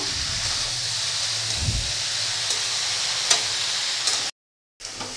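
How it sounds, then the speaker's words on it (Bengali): Spices and boiled figs sautéing in a pan for a vegetarian fig curry, a steady close sizzle and hiss with a few scraping stirs and light clicks, briefly cutting to silence near the end. "মশলাটাকে বেশ ভালো করে কষিয়ে নেব"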